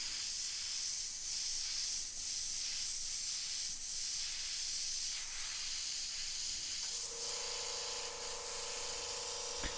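An airbrush hisses steadily as it sprays pink paint onto a T-shirt, a continuous fine airy spray with faint pulses, no talking.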